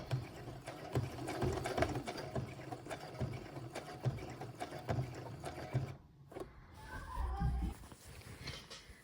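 A sewing machine stitches in the ditch along the seam of a skirt, running at a slow, steady pace with quick even needle pulses, a brief pause, then a short restart.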